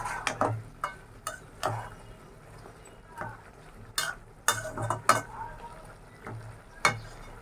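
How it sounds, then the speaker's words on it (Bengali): Mixed vegetables being stir-fried for a Bengali labra, including pumpkin, with repeated sharp scrapes and taps of a spatula against the pan over a soft, low sizzle. "সবজিটাই যে আমার প্রায় কষান হয়ে গেছে আর একটু কষাই নিব"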